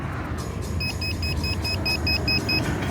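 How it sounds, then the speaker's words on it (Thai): A rapid series of short, high electronic beeps from an RC helicopter's locator beeper repeats about nine times over a steady low engine-like rumble, fairly close. "ก็มีบิปเปอร์ส่งเสียงได้นะครับ"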